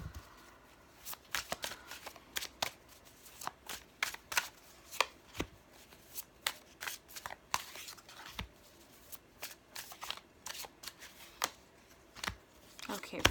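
Tarot cards being shuffled in a pick-a-card reading, a run of quick crisp riffling bursts and soft card slaps at an irregular pace, close and fairly loud, with no speech over them.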